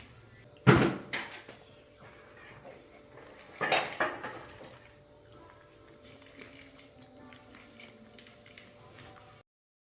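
Dishes and metal utensils clatter during kitchen cleaning: two loud, close bursts of clanking, with quieter handling noises between and after.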